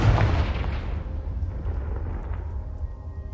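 A Confringo fire spell explodes in Hogwarts Legacy, a loud booming blast with a deep rumbling body that slowly decays over three seconds, with no voices.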